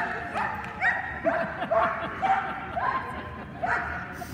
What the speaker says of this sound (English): With the barking.